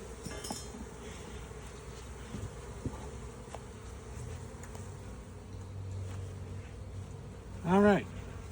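Honey bees buzz around a newly installed hive during an inspection, a faint continuous hum of many insects with one loud close buzz passing by near the end.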